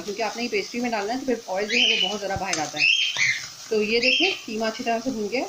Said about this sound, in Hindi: ये हमने तोते रखे हैं तो वो उसकी वजह से बहुत शोर मचाते हैं ये।